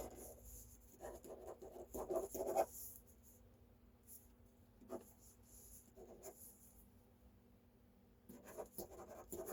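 Soft scratchy strokes of a pen moving across paper, coming in short bursts with pauses between, close and quiet.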